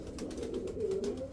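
A pigeon coos softly up close, a short low warbling call lasting about a second against quiet background noise, with no talking.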